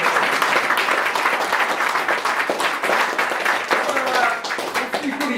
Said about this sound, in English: ladies and gentlemen, round of applause again for Steph.